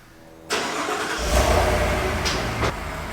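A Ford heavy-duty pickup truck pulls into an average-size garage beside a GM truck, its engine rumbling steadily close by, swelling and revving briefly as it creeps forward, with no talk.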